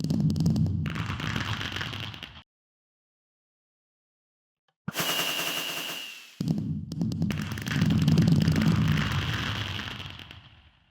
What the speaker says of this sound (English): finally 1000 fireworks all at once in Minecraft